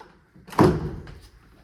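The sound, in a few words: door being moved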